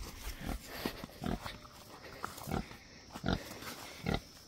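Pig on a village farm eating fresh-cut grass, with a series of close, loud munching and grunting bursts repeating roughly every half second to second, alone without talk.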